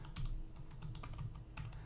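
Quick, light keystrokes on a computer keyboard patter in a quiet, irregular stream as an email address is typed in.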